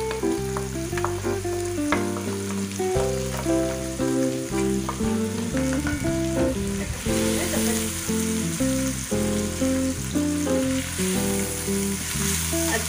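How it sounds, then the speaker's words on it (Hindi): Spices and tomatoes fry in a pan for aloo gosht, giving a steady, close sizzle that runs throughout beneath prominent background music. "थोड़े से हम इसमें अपने मसालों को भून के और टमाटर नरम होने तक का वेट करेंगे"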